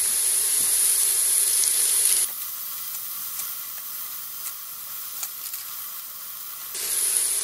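Lardons sizzling in a hot pan, a steady bright hiss that drops suddenly to a softer crackle partway through, then rises loud again near the end, with no talk.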